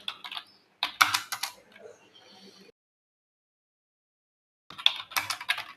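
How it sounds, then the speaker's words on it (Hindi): Quick bursts of clicking keystrokes on a computer keyboard during a Hindi typing test, close and crisp, separated by a pause of silence before another burst. "तो देखिए हम टाइप कर रहे हैं"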